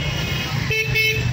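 A car horn sounds twice in short bursts during a driving lesson in traffic, loud and close over a steady background of engine and road noise.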